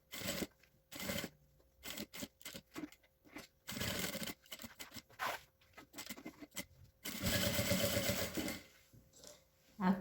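A sewing machine stitches a synthetic leather book cover in short bursts, backstitching to reinforce the seam, with quiet pauses between runs and some faint handling noise.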